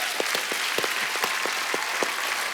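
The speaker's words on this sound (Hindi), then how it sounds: "तालियां बनती हैं भाई आपके लिए।" Studio audience at a television comedy talk show bursts into steady, dense applause, close and loud, with no voices over it.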